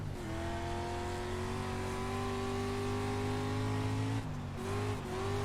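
Dirt street stock car engine in iRacing, Port Royal dirt track, holding a steady loud drone with a rising pitch as it revs, then a brief dip in tone near the end before picking back up.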